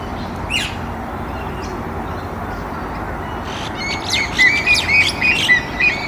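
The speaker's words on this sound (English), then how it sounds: "So this is a parent cormorant." Cormorants at a breeding colony, where a parent bird and young call together: a string of high, squeaky chirps grows louder and more rapid toward the end over a steady background wash.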